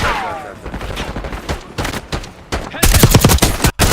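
Enemy sniper fire in a shooter video game, heard as a rapid series of loud, sharp gunshots that build into a dense, close volley of cracks near the end.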